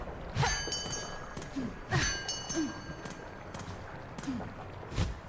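In the video game Silksong, a bell gets struck again and again, each hit a bright metallic ring over light footstep and movement effects, falling at uneven intervals about a second apart.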